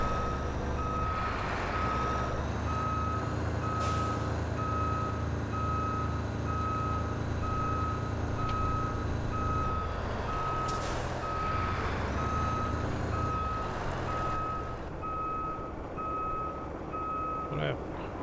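A truck in the Road Craft game rumbles along with a steady, evenly pulsing reversing beep running throughout, plus occasional air-brake hisses over the low engine drone.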